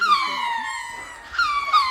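Lemurs give long wailing, howling calls in a drawn-out chorus of descending, moaning tones, fairly close and loud, swelling again near the end.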